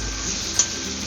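Prawns frying and being stirred with onions in a pan, a steady soft sizzle with one brief scrape or clink of the stirring utensil midway.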